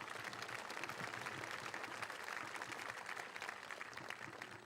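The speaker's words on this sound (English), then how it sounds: "How about a round of applause for Mr. Belanda?" Audience applause at a Brookfield High School graduation celebration for the class of 2025, a steady, distant crowd clapping that holds evenly throughout, faint and roomy with no voices on top.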